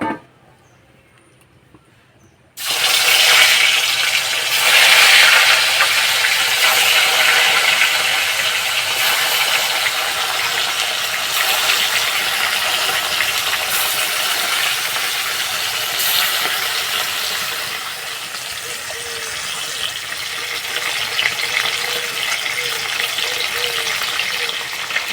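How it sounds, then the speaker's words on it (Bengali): Kalbaus fish drops into hot mustard oil in a wok and bursts into a loud, crackling sizzle after a quiet start. The frying continues steadily with fine spattering pops throughout. "এবার মাছ দিয়ে দেবো।"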